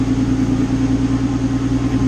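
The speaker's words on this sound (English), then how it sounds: "It's up on stands, in gear, just idling away in first gear." A March racing car sits up on stands with its engine idling in first gear, a loud steady low hum with a constant tonal drone close to the microphone, no talk.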